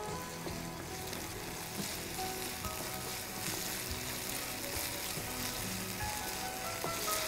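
Capsicum and cumin sautéing in a pan produce a loud, even crackling sizzle that holds steady throughout, with faint stirring movement and no voices.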